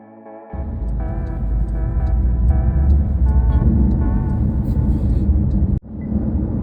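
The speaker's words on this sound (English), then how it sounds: "we'll go and have a little drive, and we'll give you a little bit of what it's like going down the road" A Porsche Carrera 4 GTS drives down the road, its steady engine and road rumble heard from inside the cabin with a low continuous drone that briefly drops near the end before resuming.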